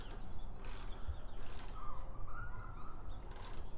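Headlight level adjuster on a BMW E90 3 Series being turned to raise the beam, three short bursts of sharp ratcheting clicks, close and fairly quiet.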